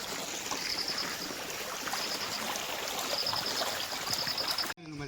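Stream water running steadily toward a village pond in Manakulam village, a continuous close trickling wash with faint chirping above it, cut off briefly near the end.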